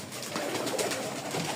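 Pigeons cooing at morning feeding time, several soft, low, rolling coos overlapping close by, steady and unbroken over a faint background hiss.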